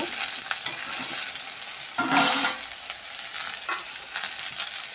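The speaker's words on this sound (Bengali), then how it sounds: "আমি একটু ভাজা ভাজা করে নেব" Chopped potato and eggplant sizzling steadily in a hot pan with cumin, with a brief louder burst of stirring and crackling partway through.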